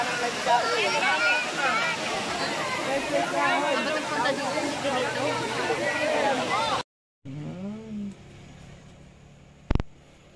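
Crowded Daranak Falls, with a steady roar of falling water mixed with a babble of many bathers' voices, loud and continuous, then a brief cut to quieter surroundings.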